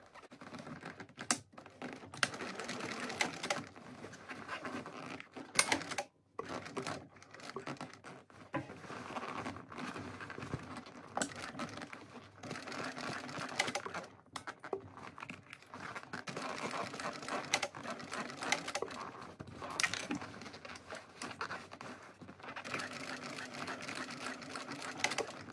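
A sewing machine stitches a handbag lining seam in short, uneven runs of rapid needle chatter, stopping and starting repeatedly with small clicks and fabric handling between bursts, close and moderately quiet.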